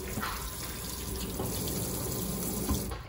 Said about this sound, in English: All right, I'm gonna rinse it off a little.